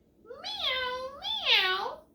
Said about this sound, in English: If you said a cat, you are correct.